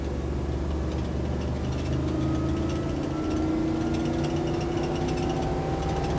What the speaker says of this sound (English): So you can hear the grunt of the engine.